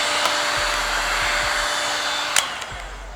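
A heat gun blows continuously as it warms vinyl film on a car's front bumper, a steady close whoosh with a few faint clicks and handling sounds.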